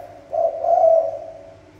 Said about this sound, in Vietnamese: Giờ thấy người là nó gù gáy